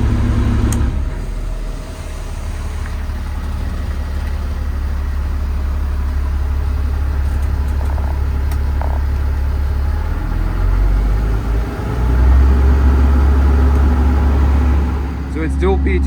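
A 2009 Kenworth T370 truck idles with its dual PTO engaged to run the crane and outriggers. The engine gives a loud, steady low rumble that swells slightly near the end, with some light clatter.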